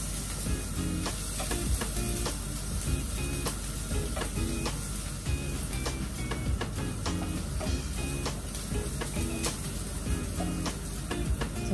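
Garlic sautéed and stirred in a pan for chicken Bicol Express, with constant loud sizzling and repeated scraping, clicking stir strokes close up, no talking.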